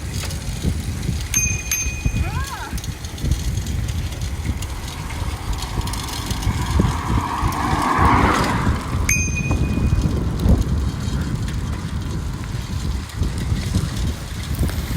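A bicycle bell gives two sharp, bright rings, one early and one later, during an uphill ride on a hot day, over steady wind rush and the low rumble of riding.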